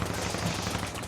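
Rapid, continuous submachine gun fire in Insurgency Sandstorm, a dense close burst of shots with no pauses.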